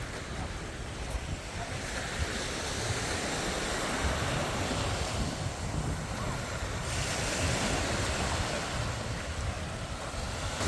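Ocean waves wash steadily onto a Bahamas beach, a continuous loud surf roar with wind buffeting the microphone throughout and no pauses.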